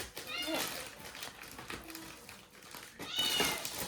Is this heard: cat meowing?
yes